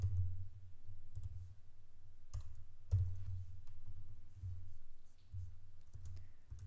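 Quiet clicking of computer keys as code is typed, in short irregular bursts with scattered individual keystrokes over a steady low background hum.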